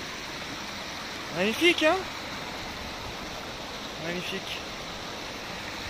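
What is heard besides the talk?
small mountain river flowing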